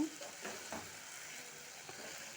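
Okra fry stirred in a pan after peanuts are added, a steady close sizzle with a few soft scraping stir strokes early on.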